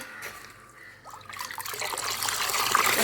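Liquid fertilizer being stirred into water in a paint bucket gives a soft swishing, sloshing churn that starts faint and grows steadily louder and busier over a few seconds, close by and with no talk.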